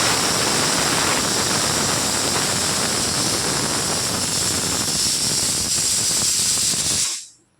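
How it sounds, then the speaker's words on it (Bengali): Rice boiling in a pot on the stove gives off a steady, loud, broadband hiss and rush of steam and bubbling that holds evenly, then cuts off abruptly near the end. "এই যে ভাতটা ফুটছে ফুটে গেছে"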